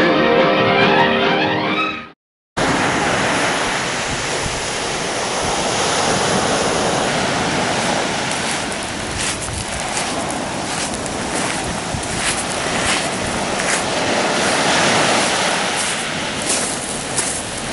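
Surf rolls and crashes steadily against the north jetties at the mouth of the Pánuco river on the Gulf of Mexico, a loud, continuous wash with heavy wind rumble across the microphone.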